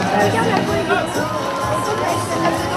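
A festival crowd at a jousting event in Saint-Goustan, Auray, keeps up dense cheering and clapping mixed with chatter and shouts, a continuous loud wash of noise throughout.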